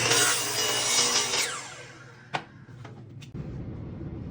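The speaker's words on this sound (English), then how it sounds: "We are now going to cut our board down to size." A hand saw cuts a wooden board with loud rasping strokes that fade, followed by a few sharp knocks and scrapes of wood. No one speaks.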